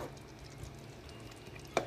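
Pork chop apritada simmers and sizzles softly in a pan, a steady faint frying hiss with a brief clatter near the end.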